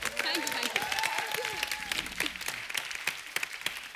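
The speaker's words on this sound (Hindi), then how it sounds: "जोरदार तालियां इनके लिए।" Studio audience applauding on a Hindi TV comedy talk show, a dense, steady wash of many hands clapping that stays loud for the whole stretch, with some voices mixed in.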